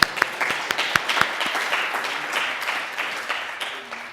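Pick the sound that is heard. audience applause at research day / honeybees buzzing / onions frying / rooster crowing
audience applause at research day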